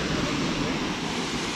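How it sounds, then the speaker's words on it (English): A waterfall on a hiking trail along the Kingfisher Trail gives a steady, loud, broad rushing wash of falling water that stays even throughout. "And we reached the waterfall."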